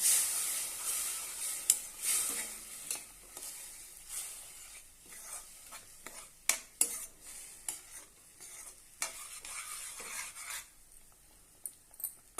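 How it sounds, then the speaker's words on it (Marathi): Whisked curd is stirred into upma in a pan, giving soft scraping and clinking strokes of a spoon at irregular intervals over a faint sizzle, close and quiet. "हे जे दही फेटून घेतलेली आहे ती घालूया आणि छानपैकी एकत्र करून घेऊया"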